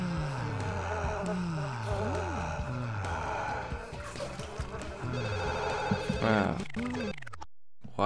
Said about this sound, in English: Why is the phone going off at 2 a.m?